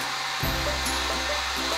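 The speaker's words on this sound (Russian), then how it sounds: "всю бутылочку вокруг аккуратно обдуваем феном" A hair dryer is switched on and blows hot air over a bottle, a loud steady roaring whoosh that starts abruptly and continues with a slight shifting tone as the airflow moves.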